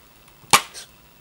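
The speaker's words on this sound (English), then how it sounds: "Let's open the case." A PS4 game case snaps open with a single sharp, close plastic click, followed a moment later by a fainter softer clack as the lid settles, in an otherwise quiet room.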